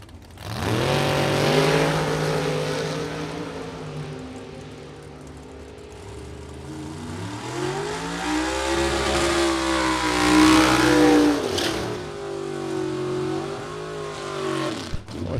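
A 1963 split-window Chevrolet Corvette drag races down the strip, its engine roaring loud and close as it revs hard, climbing through gear changes and a long pull before fading out.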